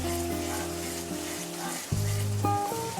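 Water hits a pan of frying fish curry (tel koi, Bengali style) and sizzles in a steady, loud hiss, with music playing over the top.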